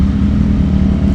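A motorcycle engine idles close by, a loud, steady, low chugging rumble with a fast even pulse and no speech.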